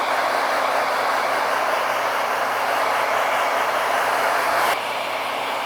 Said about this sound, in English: And then we're going to blow dry her out.